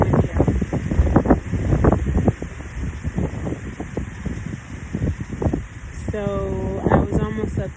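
Strong outdoor wind buffets the microphone with rough, gusting rumble and hiss, running beneath a person talking close up throughout.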